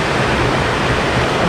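A small forest waterfall in Wayanad pours with a loud, dense, unbroken rush of falling water heard close up.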